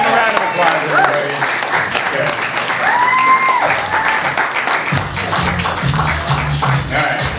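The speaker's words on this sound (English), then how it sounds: "Give a round of applause, everybody." Audience applause rolls through a room for a podcast event, a sustained patter of many hands clapping with voices and a few shouts mixed in throughout.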